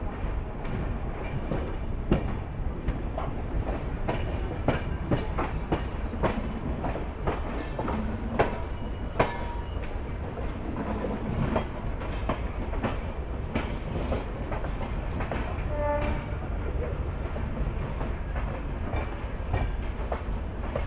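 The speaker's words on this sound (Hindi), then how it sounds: "तो अभी सिकंदराबाद अराइव हो रही है कोकानाडा एक्सप्रेस।" Kakinada Express passenger train pulling into Secunderabad station, a steady close rumble of rail cars with rhythmic clickety-clack of wheels over rail joints and occasional faint squeals, continuous throughout.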